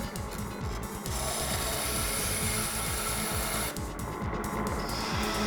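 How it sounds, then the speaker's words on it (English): A diamond truing tool dresses the grinding stone of a Smartgrind water-cooled grinding machine, giving a continuous gritty rasping scrape with a steady motor hum underneath and a few brief shifts in tone. "The diamond truing tool should now be in contact with the stone. The lock nut is tightened. We can now true the stone."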